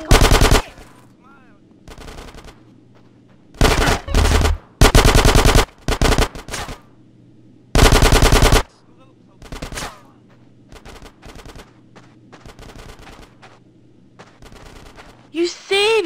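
Bursts of automatic gunfire in GTA San Andreas, loud rapid volleys of varying length separated by pauses, a few short single shots among them, with a quieter game backdrop between.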